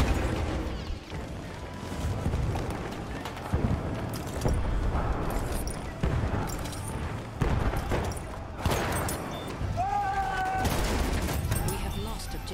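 Shotgun blasts and other gunfire crack repeatedly through a chaotic Battlefield 1 conquest match, with booming shots and distant explosions over continuous battle noise while a player talks.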